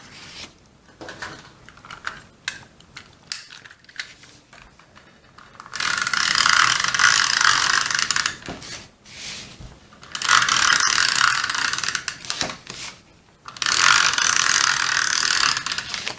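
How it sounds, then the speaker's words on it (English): An adhesive runner tape dispenser is drawn across paper in three long passes, each giving a loud, close, continuous ratcheting clatter, with softer clicks and handling noise of paper crafting between the strokes. "using my adhesive runner here, like a couple of lines down the middle just to make sure that's secure"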